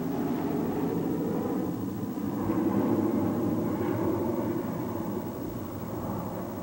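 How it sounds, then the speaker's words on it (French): An airplane in flight, a steady broad engine drone that swells a little in the middle, rumbling on without pause and with no voices. "Je suis obligé de prendre l'avion."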